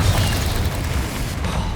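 A Confringo spell blast in Hogwarts Legacy, a loud, dense rumbling burst that fills the whole moment and rolls on without a break, heavy in the low end.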